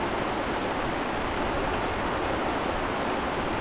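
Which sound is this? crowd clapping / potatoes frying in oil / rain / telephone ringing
rain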